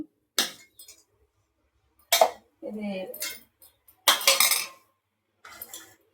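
Cooled gongura leaves tipped into a metal mixie jar give sharp metallic clinks and scrapes in a few separate bursts, near and clear, with brief speech between them.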